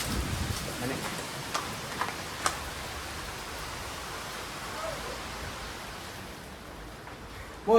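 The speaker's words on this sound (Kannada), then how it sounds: "ಓ ಯಾವ್ದಮ್ಮ ಇದು ಮಳೆ ಹಿಂಗೆ ಬಂದ್ಬಿಡ್ತು." A sudden rain shower pours down steadily as a continuous broadband hiss, with a few sharper ticks early on and a brief louder burst right at the end.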